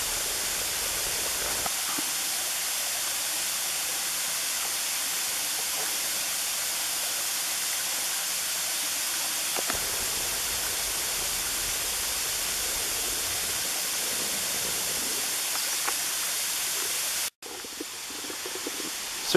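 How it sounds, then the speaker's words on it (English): Buttermilk Falls in Indiana County, Pennsylvania, with water rushing over rocks: a continuous, steady broadband roar, fairly close and even throughout, with no voices. "You can see the water flowing over the rocks."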